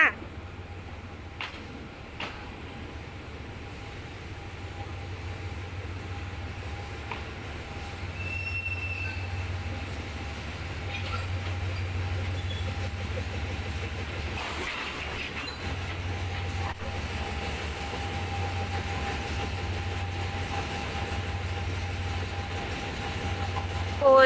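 A Hitachi 4508 diesel locomotive hauls an ordinary passenger train out of Ban Phachi station in Thailand, a steady rolling rumble with pulsing low engine drone, occasional wheel squeals and clicks, heard from nearby throughout.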